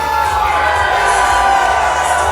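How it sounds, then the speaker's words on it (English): Boxing fight crowd in an arena roaring and cheering for Aaron Dallas against Rosario Grillo; a loud, dense, continuous wall of shouting and whoops filling the venue. "this crowd is unbelievable here tonight"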